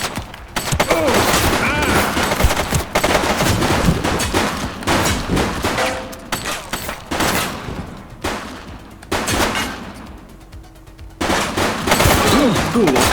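Gunfire in the police game The Precinct, with rapid bursts of shots and sustained automatic fire in close succession, loud and near, broken by a few brief pauses, with voices mixed in at times.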